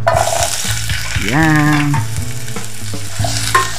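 Onion hits hot oil in a preheated pot for shrimp in coconut milk with tomato, giving a loud continuous sizzle and frying hiss with stirring scrapes, while someone talks over it.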